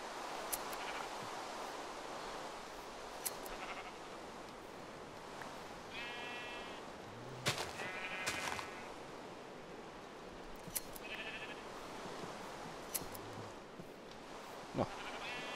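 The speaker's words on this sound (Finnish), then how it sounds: "Kyllähän täällä viidekosolla tuntuu olevan näitä lampaitakin." Several short sheep bleats from Minecraft rise over a faint hiss, spaced irregularly across the stretch. Soft thumps and clicks are mixed in between them.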